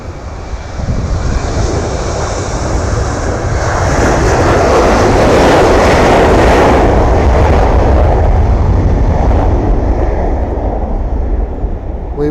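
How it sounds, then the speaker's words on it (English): A Ryanair airliner takes off from Manchester, its jet engines building into a loud, broad roar that peaks mid-clip and stays strong as it climbs away, with no talking over it. "However, Ryanair departing first."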